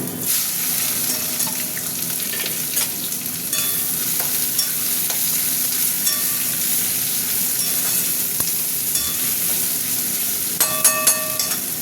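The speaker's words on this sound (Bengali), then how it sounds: "তেল গরম হয়ে গেছে, তেজপাতা দিয়ে দিলাম, একটু শুকনো লঙ্কা, আর দিয়ে দেবো পেঁয়াজটা দিয়ে দেবো।" Onion frying in hot oil with bay leaf and dried chilli for a spicy red chicken curry, a steady close sizzle with scraping stirs and occasional clinks of a utensil against the pan, no talk.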